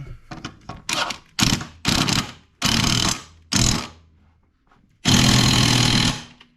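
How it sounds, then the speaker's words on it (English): An impact wrench tightens the blade on a Craftsman M110 lawn mower with a 140cc Briggs & Stratton engine, firing in a series of loud, short hammering bursts, then one longer sustained burst near the end, up close with no talking. "then you just take your good old impact"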